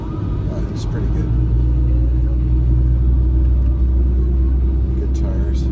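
An automatic car driving through a snowstorm, with a loud, steady low engine and road rumble heard from inside the cabin and a person talking over it.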